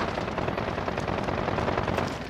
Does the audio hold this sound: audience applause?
no